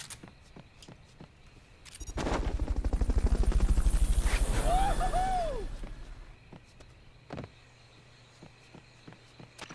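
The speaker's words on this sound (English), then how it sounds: "Fulton recovery helicopter is complete." A helicopter's rhythmic rotor thumping swells in, holds loudly for several seconds, then fades away, with scattered clicks and a few tonal whoops from game effects; a Fulton recovery helicopter in Metal Gear Solid: Peace Walker.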